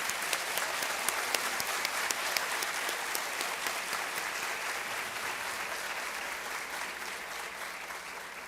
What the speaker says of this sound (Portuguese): Gente, vamos aplaudir o nosso valoroso Dr.